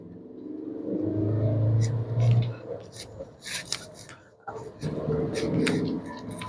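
A 2006 Volkswagen Jetta TDI diesel with high mileage accelerating in a short pull, its engine droning steadily from inside the cabin with rattles and clicks, easing off briefly before picking up again.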